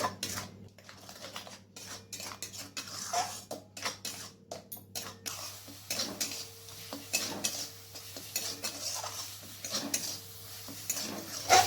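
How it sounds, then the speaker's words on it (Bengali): A spice mixture with mustard paste fries in a pan while a spoon stirs and scrapes it in quick irregular strokes, the taps and scrapes sitting close over a soft sizzle with a low hum underneath. "এরপর সবকিছু ভালো করে মিশিয়ে 2 মিনিটের মতো কষিয়ে নেব"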